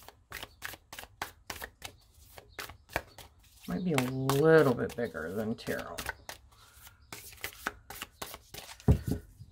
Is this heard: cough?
no